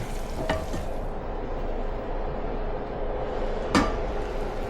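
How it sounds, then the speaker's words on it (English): Meat and vegetables for a homemade Ghibli-style curry tumble into a slow cooker, giving a steady rustling, clattering bed of food sounds with a sharp knock or clank near the start and another near the end. "So we're gonna go ahead and just introduce this into the slow cooker."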